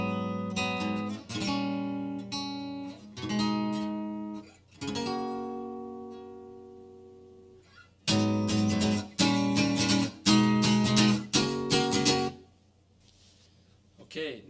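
An electric guitar plays the chord progression from a song in a lesson setting, with clear strummed chords ringing out in separate bursts, some sustained and some choppy, heard alone with no talking.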